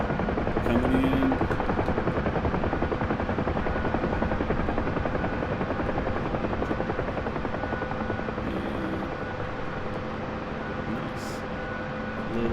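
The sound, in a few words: Huey helicopter rotor while landing, from a flight video game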